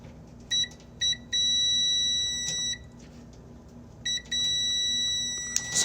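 Repeated electronic beeps from a multimeter on continuity mode, probing the heating element of a GE dryer that is not heating: short tones, then a long steady tone, a pause, then more short beeps and another sustained tone, close and clear.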